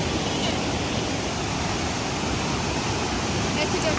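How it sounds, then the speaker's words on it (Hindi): A steady, loud rush of flowing blue river water in Gilgit fills the clip without pause, a dense roar like a fast river or cascade nearby. "इस कदर रवानी से बहते हुए इस नीले पानी का बहुत ज़्यादा शोर"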